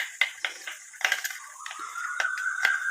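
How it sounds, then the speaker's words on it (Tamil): A spoon stirs a thick curd face-pack mixture in a bowl, giving close, light taps and scrapes against the bowl in an irregular rhythm, with no voices. "நல்லா மிக்ஸ் பண்ணிக்கோங்க"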